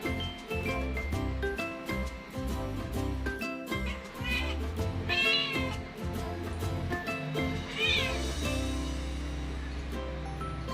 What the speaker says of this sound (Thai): ได้ยินไหมคะ เสียงถุงทองเรียกแม่กิ่ง